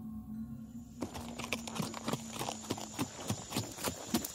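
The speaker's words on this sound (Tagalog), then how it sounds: "ang puti naming kabayo" A white horse's hooves clip-clop in a steady, even rhythm on a hard surface, fairly close and moderately loud, beginning after a moment of quiet and continuing alongside a faint tonal hum.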